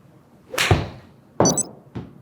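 An iron clubface striking a golf ball during a game-improvement iron fitting: three sharp, separate impact cracks, the first loudest with a brief ring, the later two crisp and close.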